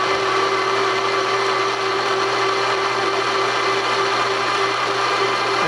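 A metal lathe cuts a tapered spur gear during a gear rebuild, producing a steady, loud machining whine and hum that holds constant throughout without pauses or voices.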